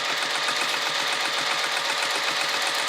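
Domestic sewing machine stitching a vinyl tote bag, a fast, even mechanical whir with tight rapid needle ticking that runs continuously at close range, with no talking.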